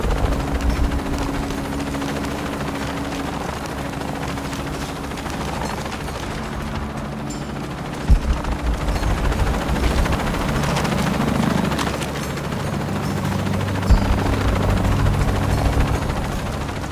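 A helicopter in the video game Shadow of the Tomb Raider thrums with a constant rotor drone, joined by bursts of gunfire and a couple of sharp impacts; it stays loud and continuous throughout, with no speech.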